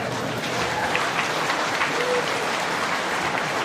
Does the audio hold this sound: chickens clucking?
no